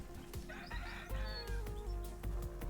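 Chickens cluck in a video game, a short run of close, repeated clucks and squawks with rhythmic game sounds behind them and no speech.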